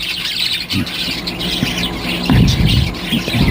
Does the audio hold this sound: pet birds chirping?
yes